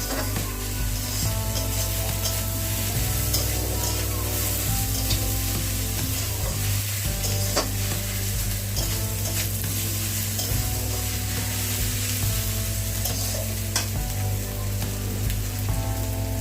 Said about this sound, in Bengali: তেলে প্রথমে জিরা ভাজা হলো, এন্ড দেন পেঁয়াজ, আদা রসুন।